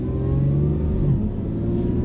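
An Acura NSX with a titanium dual mode exhaust and active valves, set to quiet mode, hums with a steady, subdued engine drone and low rumble, close and even without revving.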